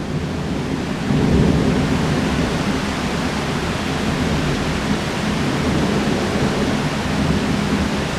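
A thunderstorm in Pattaya, Thailand pours down in a loud, steady wash of heavy rain with deep rolling thunder underneath, and no one speaks.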